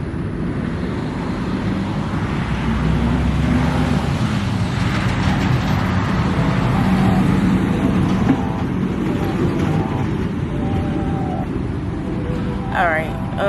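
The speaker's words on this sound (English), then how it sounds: "that truck is loud" A loud truck passes on the road nearby, a heavy low rumble that swells toward the middle and slowly eases away.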